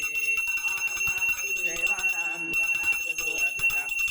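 A ritual hand bell (ghanta) rings steadily throughout abhishek worship for Akkalkot Swami Maharaj, its bright sustained tone running continuously under chanted Sanskrit mantras.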